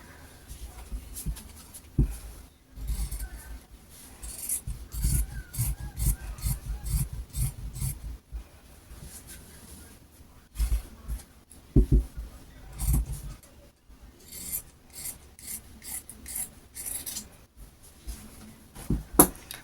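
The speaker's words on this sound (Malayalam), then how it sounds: "അപ്പോൾ നമ്മളിതുപോലെ കട്ട് ചെയ്തെടുക്കുകയാണ് കേട്ടോ ചെയ്യുന്നത്." Scissors cutting folded churidar fabric on a table, producing repeated close rasping snips in uneven bursts, with short pauses between runs of cuts and no talking.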